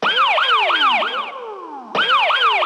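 Ambulance siren sound effect triggered on an electronic Octopad drum pad, loud rapid repeating wails that trail off briefly and then restart abruptly.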